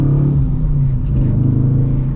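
Dodge Challenger R/T with a manual gearbox, its muscle car engine droning steadily and loudly up close with a deep, even hum and slight throttle rise.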